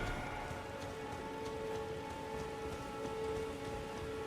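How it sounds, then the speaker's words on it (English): Steady rain pours down in the Elden Ring video game near the Lost Ruins, a dense, even hiss of drops on the ground with no thunder or talk. "It's raining."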